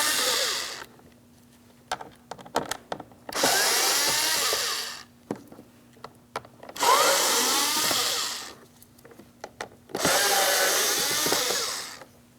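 A power drill-driver backing screws out of a 2006-2010 Hyundai Sonata door panel, whining in four separate high-pitched bursts, close and loud, with clicks and plastic handling noises between them.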